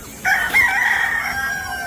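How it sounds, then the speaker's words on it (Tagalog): A large rooster crows loudly and close by, one long drawn-out call that holds steady before tapering off, with no voices over it. "Yun yung barako natin malaki manok po ito"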